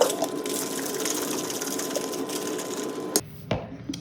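Continuous sloshing and rattling as liquid is shaken vigorously inside a container, ending abruptly with a couple of knocks.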